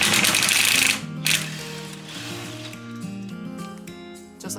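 An impact gun rattling a 17mm nut off a strut end link during an air suspension install, a loud, rapid hammering burst that stops after about a second, followed by a quieter whirr and mechanical clicks.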